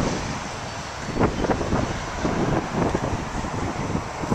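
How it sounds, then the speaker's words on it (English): Blustery wind in Western Washington buffeting a microphone outdoors, a continuous rushing roar with irregular gusts, fairly loud and close, with no speech. "It's a bit of a blustery day here in Western Washington, and the cottonwood is flying."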